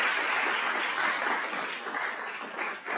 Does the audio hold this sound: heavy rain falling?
no